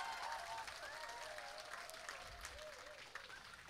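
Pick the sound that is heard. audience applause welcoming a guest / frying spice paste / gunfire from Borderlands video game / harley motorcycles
audience applause welcoming a guest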